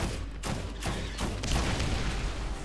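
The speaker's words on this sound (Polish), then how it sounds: "Co to za jakieś wybuchy?" Explosions go off in the Borderlands video game during a boss fight with a giant Rakk, a rapid run of booming blasts in quick succession, loud and dense, with no talking.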